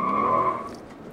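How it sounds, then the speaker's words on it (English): A brief, fairly faint tire squeal as the 435-horsepower V8 of a 2014 Mercedes-Benz SL500 spins its wheels under hard acceleration, fading out within about a second. "You'll spin the wheels every time you accelerate fast if you don't need the traction control."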